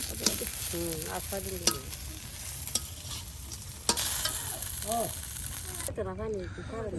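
Crispy fritters (bora) frying in hot oil in a rural kitchen, a steady bubbling sizzle throughout with occasional sharp clinks of a utensil; people talk over it.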